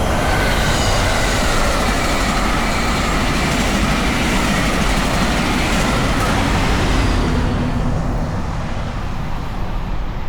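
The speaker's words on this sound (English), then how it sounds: "Amtrak's Gold Runner, formerly known as the San Joaquin, is the train here" An Amtrak Gold Runner passenger train passes near Sacramento, California, as a loud, continuous rumble and rushing roar of wheels on rails, steady for most of the pass before easing off at the end.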